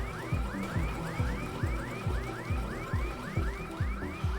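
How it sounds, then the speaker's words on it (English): A rising and falling electronic alarm in the video game Teardown wails in a regular repeating cycle, steady and fairly loud with no talk over it. "I feel like we've triggered some alarms by snapping that picture"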